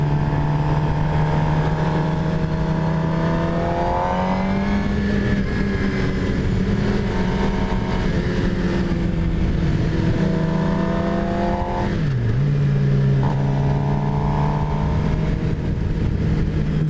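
A 2018 Suzuki GSXR750 sport bike engine droning loud and close during a ride, its pitch sweeping up and down through gear changes and throttle shifts, with wind rush underneath.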